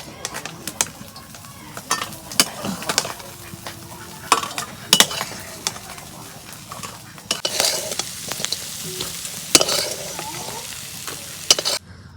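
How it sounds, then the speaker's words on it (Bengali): Small river puti fish frying in oil in a pan, a steady close sizzle broken by repeated scrapes and clinks of a utensil stirring and turning the fish. "মাছ ভাজা হচ্ছে"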